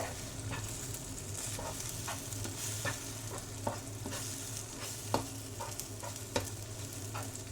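An egg omelette fries in a pan for chicken egg fried rice, a steady, fairly faint sizzle with light spatula taps and scrapes at irregular intervals and no talking.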